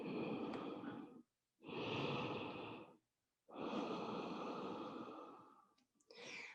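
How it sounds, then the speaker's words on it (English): Slow, deep breaths during a yoga session with the forehead resting on the mat, each long soft exhale separated by a brief silence, close and quiet with no talking. "Deep breath."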